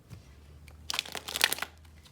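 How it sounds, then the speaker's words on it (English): Tarot cards being shuffled by hand, a short burst of soft riffling and slippery card-on-card swishes lasting about a second, close and fairly quiet, with no talking. "I won't shuffle a ton because these are already shuffled."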